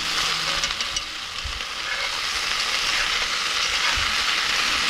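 Potatoes and peppers sizzling hard in a Dutch oven at a campsite, a loud, continuous frying hiss with faint clinks of stirring.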